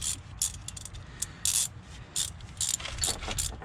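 A small hand tool ratchets and clicks while tightening 15 mm nuts on top of a Rough Country 2-inch leveling strut on a 2016 RAM 1500 4x4, with bursts of ratcheting in short, irregular strokes and a low rumbling background.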